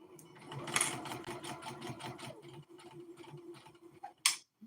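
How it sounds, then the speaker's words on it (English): Sewing machine stitching a tote bag, a quick steady run of close mechanical ticking stitches that slows and stops, followed by a brief clack. "I stitch these closed so the shoulder of the bag can come together."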